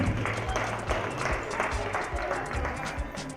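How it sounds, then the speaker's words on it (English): Audience applause at an Igbo new yam festival gathering in Gävle, Sweden, steady continuous clapping with audible individual claps throughout, moderately loud. "Please, a round of applause for him."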